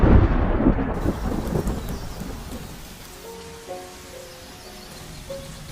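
Heavy rain pours in a loud, dense wash that eases after the first second into a steadier, softer patter, with faint thin tones near the end and no voices.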